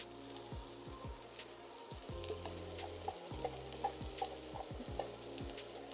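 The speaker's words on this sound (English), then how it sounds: "we'll get ready to saute our vegetables up" Onions sauteing in a pot for a Creole cornbread stuffing, giving a steady close crackling sizzle with scattered pops and stirring scrapes throughout, no voices.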